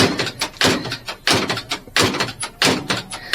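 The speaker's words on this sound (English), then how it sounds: "the door does open and close like butter" VW Beetle door swung open and shut repeatedly, giving a series of loud close thunks and latch clicks in quick irregular rhythm, each followed by brief handling noise, with no talking.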